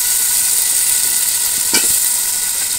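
Cut potatoes go into a pot of chicken khichuri and sizzle loudly and steadily, a close, continuous frying hiss with a brief clatter partway through.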